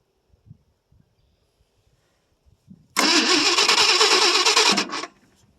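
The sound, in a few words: 1968 Ford LTD 390 FE engine cold start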